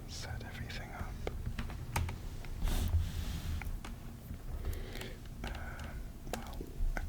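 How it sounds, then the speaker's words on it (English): Soft clicking keystrokes on a computer keyboard at a desk, irregular bursts of close typing with brief pauses, under quiet whispering and faint breathy noise. "I'm going to try and use this keyboard and see if it sounds nice."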